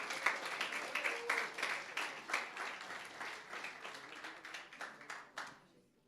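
A church congregation claps for the Lord during a worship service, a soft, distant wash of many hands that holds steady and then thins out and fades toward the end.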